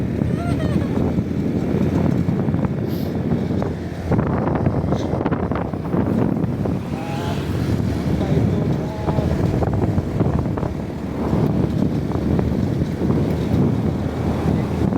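Wind buffeting a microphone during a joy ride along a highway from Gaisano Grand Mall in Toledo, a constant loud rushing roar with gusty surges, with voices talking over it.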